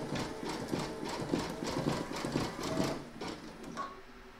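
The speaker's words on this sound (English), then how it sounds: "load your matching bobbin and thread for the red, or for the satin stitch border should I say, into your machine, and then you're going to stitch round number 9" An embroidery machine stitches a satin stitch border on an in-the-hoop poinsettia bunting, running a steady, rapid mechanical chatter with rhythmic needle pulses, fairly close and alone.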